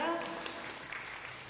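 Applause from a forum audience welcoming a speaker, a steady crackling wash of many hands clapping, with a brief voice near the start.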